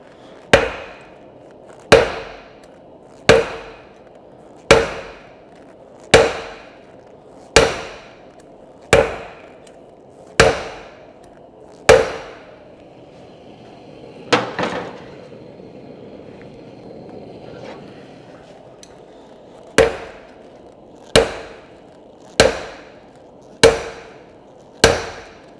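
A heated steel chisel tip is hammered on an anvil to taper it, giving sharp metallic strikes at a steady rhythm, about one every second and a half. They pause briefly midway, then resume, with no talk.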